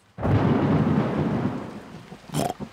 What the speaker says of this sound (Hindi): हर एक चमक और शोर के बीच गिनती करते हैं, और ज्यादा गिनती करने से तूफान दूर चला जाएगा।